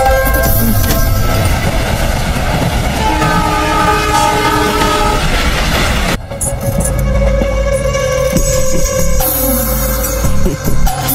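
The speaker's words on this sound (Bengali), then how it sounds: "তুমি ট্রেনের আওয়াজ শুনতে পাচ্ছ না?" A train at a railway station, with a loud horn and steady rumble of rail cars running continuously, the tone shifting partway through as the train keeps moving close by.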